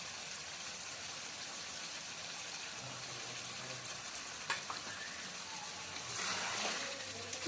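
Chicken curry is stirred in a wok after cashews, raisins, melon seeds and poppy seed paste are added, giving a steady low sizzle with soft scraping and faint clinks of a spatula against the pan.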